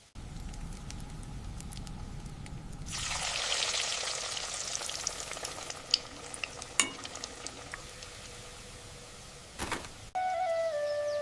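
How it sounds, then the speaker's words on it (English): Chili pakora (mirchi bhaji) dropped into hot oil bursts into a loud, steady sizzle that bubbles for several seconds, with a few clicks and taps of utensils and a short bright chime near the end. "Be very careful when you drop them in the hot oil."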